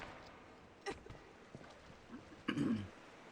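A character coughs in the video game Rise of the Tomb Raider: a short, sharp cough burst, then a louder, rougher cough a moment later, heard faintly over quiet game ambience with no one talking.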